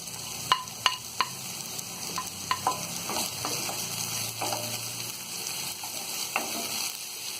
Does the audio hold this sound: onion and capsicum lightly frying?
yes